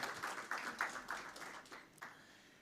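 Audience applause for a panel at an event, a modest round of clapping that rises in quick bursts and then fades away.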